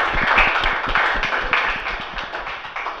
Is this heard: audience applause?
yes